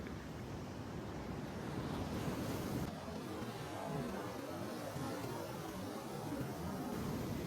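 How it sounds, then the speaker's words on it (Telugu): Sea waves at Mypadu beach wash far up the sand at sunrise, a continuous loud surf roar with heavy wind buffeting the microphone and no voices. "వాటర్ ఏంది ఇక్కడ దాకా వచ్చేస్తున్నాయి"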